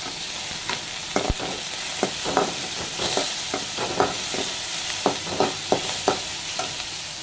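Onion and tomato sautéing in a pan for homemade podalanga kootu, a steady hissing sizzle punctuated by a regular series of light taps and scrapes from stirring, close by, with no speech.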